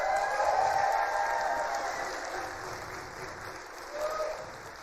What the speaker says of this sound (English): Can we cheer for him like Syracuse just won the NCAA championship?